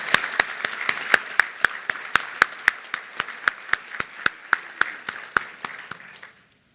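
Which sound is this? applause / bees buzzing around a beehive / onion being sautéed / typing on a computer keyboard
applause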